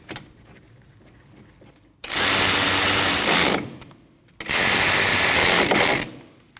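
A power tool runs in two bursts of about a second and a half each, tightening the 14mm brake caliper bolts on a 2003-2008 Subaru Forester. Both bursts are loud and close, with quiet pauses between them.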